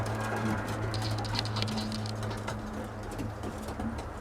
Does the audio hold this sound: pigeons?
yes